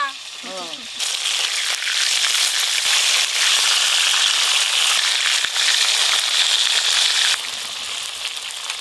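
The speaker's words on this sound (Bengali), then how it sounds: "ভোলা মাছ তো তাড়াতাড়ি ভাজা হয়ে যাবে" Red bhola river fish fry in hot oil, a steady loud sizzle with crackles that starts after a second and runs continuously close by, with faint voices murmuring at the very start.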